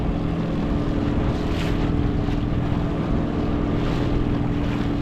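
Tour boat cruising through Boothbay Harbor, a continuous low engine drone with water rush and wind buffeting the microphone, steady and loud throughout with no talk.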